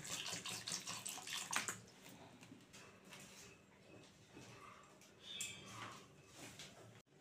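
Cut potatoes being washed in water in a home kitchen for alur dam: continuous splashing and sloshing with bursts of running water, moderately close and steady throughout.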